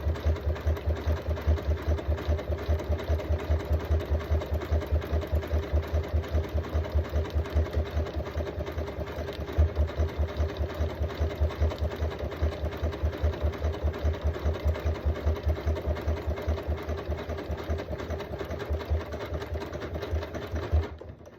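A sewing machine stitches a buttonhole on a hanging kitchen hand towel, its needle chattering in a fast, steady, even rhythm close up for a long, continuous stretch.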